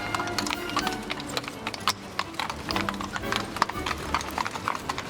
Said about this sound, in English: The only horses suitable for this kind of training are Lipizaners, which is a cross between Arabian and Spanish breeds.